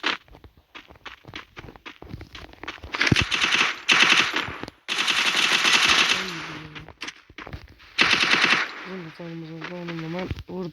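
Bursts of UMP submachine gun fire in a shooting video game, loud rapid rattling volleys separated by pauses, with footstep sounds and voice chat talking underneath.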